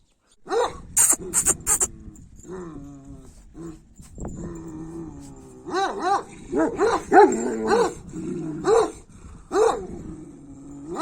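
A large female Kangal dog barks repeatedly in bursts, with deep woofs mixed with yips and whines, close and loud.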